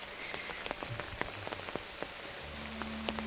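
Rain pattering steadily on an umbrella during a walk through a wet Canadian forest, with scattered close drips and taps over a soft continuous patter; a low hum joins near the end.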